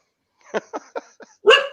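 A dog gives a quick series of short, close yips or barks, four brief ones followed by a louder, longer bark, with no talk in between.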